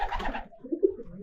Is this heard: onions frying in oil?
no